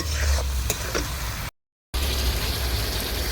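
Rohu fish curry with chili and tomato simmers in a pan over a wood fire, giving a loud, dense, continuous sizzle and bubbling hiss up close. A brief total dropout of sound breaks it midway.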